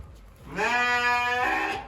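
A single sheep lets out one long, wavering bleat nearby, clear and loud against a quiet background.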